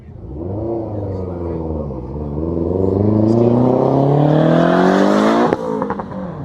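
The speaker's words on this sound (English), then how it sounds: "And it's engine heading up the hill pasture now. The Esprit." A Lotus Esprit climbs the hill at the Kop Hill Festival hillclimb, its engine loud and close, the note rising steadily in pitch as it accelerates, with a sharp crackle near the end.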